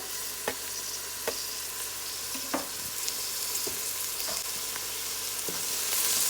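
Hot pepper and green onion seasoning sizzles steadily in a pot, a constant frying hiss broken by a few soft knocks of a stirring utensil.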